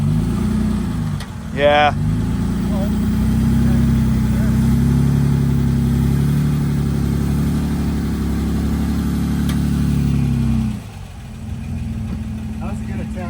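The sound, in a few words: off-road vehicle engine revving on a trail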